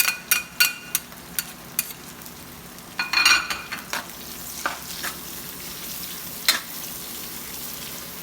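Garlic and onion sizzle in a pan, a soft steady frying hiss punctuated by sharp scraping clicks of a utensil stirring against the pan.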